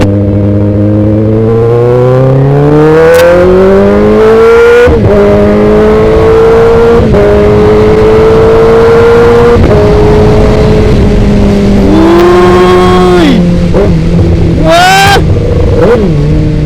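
A 2021 Kawasaki ZX10R motorcycle engine revs loudly while being ridden, with the pitch climbing through the gears, short drops at each shift and a sharp rev rise near the end.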